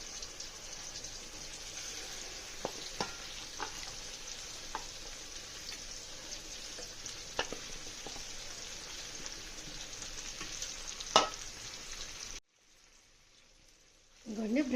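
Goat brain frying in a pan, a steady hiss with scattered clicks and pops for about twelve seconds, then a sudden drop to near quiet before a brief clatter at the end.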